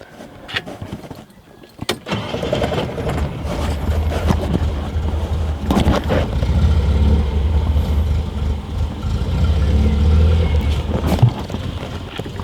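A car engine with a newly fitted starter fires up and settles into a steady, loud idle that runs on throughout, with a low rumble and some clunks over it.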